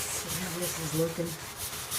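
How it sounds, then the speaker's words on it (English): Hard scrubbing of a surface with Bar Keepers Friend cleaner, a steady close abrasive rubbing with rhythmic strokes running throughout, alone without talk. "You gotta really scrub hard."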